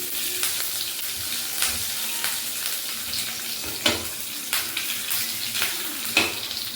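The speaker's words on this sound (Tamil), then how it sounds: "நல்லா பொரியணும். கடுகு பொரிய ஆரம்பிச்சிச்சு." Mustard seeds popping in hot oil alongside urad dal and curry leaves in a tempering pan, a steady close sizzle broken by scattered sharp crackles and pops with no talk.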